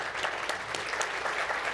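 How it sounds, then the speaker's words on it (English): Applause from a conference audience at a leadership panel on education, a steady dense patter of many hands holding at a moderate level for a couple of seconds. "Please, a big round of applause for that"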